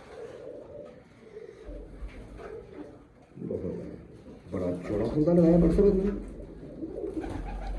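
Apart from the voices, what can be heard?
breeder pigeons cooing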